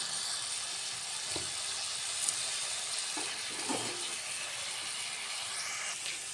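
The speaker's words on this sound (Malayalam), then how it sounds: "സവാള ഇട്ട് കൊടുത്തിട്ടുണ്ട് അതിലേക്ക് സ്വല്പം ഉപ്പ് ചേർക്കാം എന്നിട്ട് നമുക്കിത് വഴറ്റി എടുക്കാം" Sliced onions with a little salt sauté in a pan for a coconut-milk crab curry, giving a steady, close sizzle and hiss with a few faint stirring scrapes throughout, no talking.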